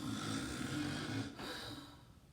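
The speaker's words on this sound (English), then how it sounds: "a man was taking a nap and snoring" A man snores with a slow, rumbling, rasping breath that fades off toward the end, close and steady with no talking.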